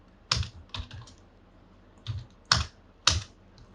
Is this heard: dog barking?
no